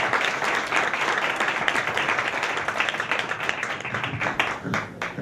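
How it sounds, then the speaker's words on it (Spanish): An audience at an interview event gives a strong round of applause, dense clapping sustained through the clip with slight swells, no voices over it. "ahora sí un fuerte aplauso"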